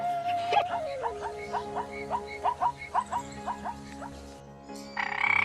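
A frog croaks in a quick, regular series of about a dozen short, throaty pulses, fairly close and clear, with a steady tone running underneath.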